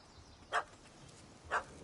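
Small yappy dog in The Witcher 3 game world, two quick sharp barks about a second apart, fairly faint over quiet ambient background.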